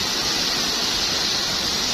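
Water overflowing at a resort spills out in a strong, unbroken wash of noise, near and loud, with nothing else audible over it.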